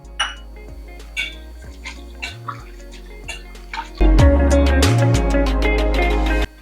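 Lentils (dal) for sambar are rinsed in water in a vessel, with sparse drips and clinks early, then a louder continuous stretch of swishing water and vessel clatter before it cuts off.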